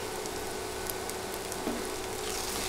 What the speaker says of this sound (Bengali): নেড়ে চেড়ে হলুদ মরিচ আরও 30 সেকেন্ডের মতো ভেজে নিব।